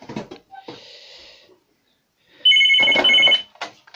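C-tec SigTEL demo board phone rings with a loud electronic bell tone lasting about a second, preceded by softer handset tones and beeps.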